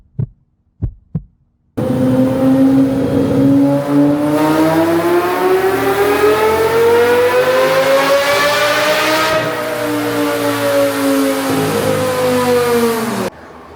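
A V10-swapped Lincoln Continental engine revs on a dyno, a few sharp blips followed by a long loud sustained pull that climbs steadily in pitch, then cuts off abruptly.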